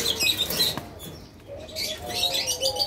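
Pigeons at a farm beat their wings in repeated close flutters, mixed with soft chirps and coos.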